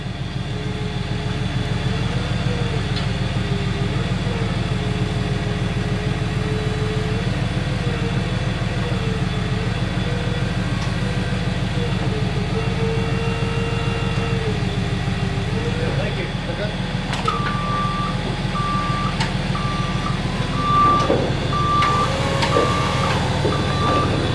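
An electric forklift drives around a machine shop with a steady motor whine and hum; a loud, regular reversing beeper starts near the end and keeps pulsing over the drone.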